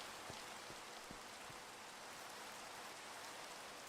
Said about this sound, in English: Can't tell if it's the Minecraft rain or my computer. Oh yeah, it's probably the rain.